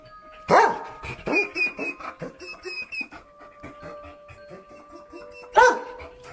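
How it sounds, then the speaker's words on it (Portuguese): A frightened dog barks in sharp, uneven bursts with whining, high-pitched yelps between them, reacting to something downstairs. It is fairly close, and no one speaks. "o cachorro do casal está assustado com alguma coisa no andar de baixo"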